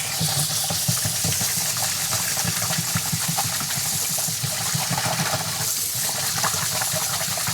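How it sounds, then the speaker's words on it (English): Tap water gushes steadily through a colander in a kitchen sink, a continuous loud hissing splash with constant spattering and no pauses, close up and without talk. "Just gonna run some water through it."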